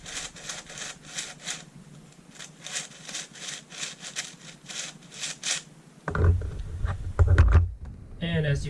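A 7x8x9 brick cuboid twisty puzzle with post-processed, cut stickers being turned, giving repeated dry plastic scraping and clicking turns in a steady rhythm, then a louder rough burst of rubbing near the end.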